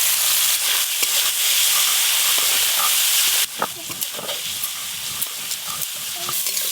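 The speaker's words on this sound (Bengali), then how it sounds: "এঁচোড় চিংড়ির জন্য চিংড়ি মাছগুলো ভেজে নেব।" Prawns frying in hot oil give a loud, continuous close sizzle. Light stirring clicks and scrapes come through, and the hiss drops slightly partway through.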